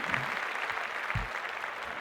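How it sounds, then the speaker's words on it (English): Scattered clapping from a small group, steady and moderately loud, with a few thumps mixed in. "Make a round of applause for sports in general."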